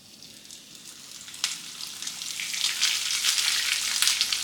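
Steady, bright sizzling of cornmeal-coated fish frying in a pan, close by and gradually growing louder, with no voices.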